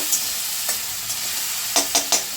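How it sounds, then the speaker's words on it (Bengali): Ginger and green chili sizzle in a little hot white oil in a wok under a steady hiss, with a few quick scraping stirs near the end. "কাঁচা লঙ্কা আদাটা একটু নেড়ে নেব।"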